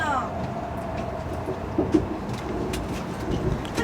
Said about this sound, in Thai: ตอนนี้ขบวนรถผ่านประแจ เข้าสู่บริเวณของชานชาลาสถานีซูโจครับ